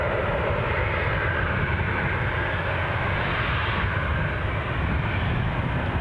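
A Jet2 passenger jet departing Newcastle Airport for Lanzarote, its engines giving a steady, loud broadband roar that holds evenly throughout with no voices over it.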